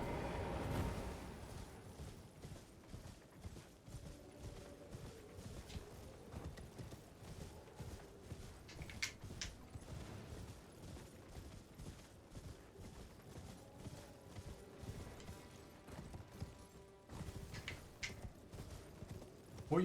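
A horse gallops in the video game Elden Ring, its hoofbeats a quiet, steady clip-clop rhythm that runs throughout under faint background game sounds, with no speech.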